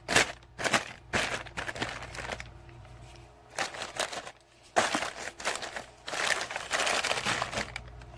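Plastic packaging around a pack of Clorox wipes is cut and torn open, with bursts of loud crinkling and crackling broken by short quiet pauses, all close up.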